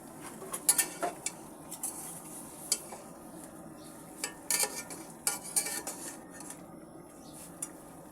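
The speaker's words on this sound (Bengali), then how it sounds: "এবার আমি ঢাকনাটা তুলে দেখব আমার লাউ শাকের কি অবস্থা আমি আরেকটু নেড়ে দেবো" Bottle gourd greens being stirred in a pot for a tengra fish dish, with irregular metal scrapes and light clinks of a spoon against the pot, fairly close and quiet, with no talking.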